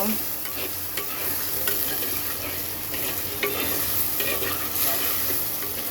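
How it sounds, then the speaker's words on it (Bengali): Salted diced potato pieces sizzle in hot oil in a pan and are stirred, giving a continuous bright crackle with scraping of the stirring utensil. "এইবার আলুটাকে একটু দুই থেকে তিন মিনিট ভেজে নেব"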